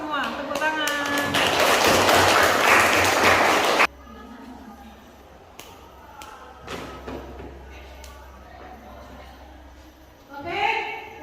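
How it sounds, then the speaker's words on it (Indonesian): Classroom students clapping together in a high school economics lesson, a loud burst of applause for about four seconds that stops abruptly, followed by a quieter room with soft taps and a voice speaking. "Tepuk tangan."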